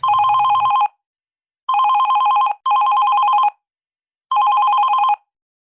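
A telephone bell rings loudly and close by in four separate bursts, each about a second long, with silent pauses between them.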